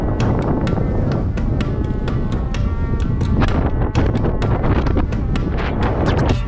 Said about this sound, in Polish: Wiatr zaczyna wiać coraz mocniej